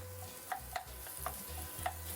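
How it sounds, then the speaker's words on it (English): Onions sweat in a pan with a quiet, low sizzle while a utensil stirs them, tapping and scraping against the pan in a loose rhythm. "I'm just going to scoop it straight into the pan. And literally just keep stirring it until it's completely cooked off."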